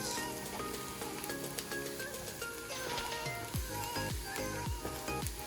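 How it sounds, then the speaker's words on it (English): Sliced mushrooms sauté in a pan with other vegetables for a low-carb vegan zucchini pasta, giving a steady close sizzle and crackle with a few louder bursts near the end. "I'm also going to throw in some sliced mushrooms. Let these cook in with that."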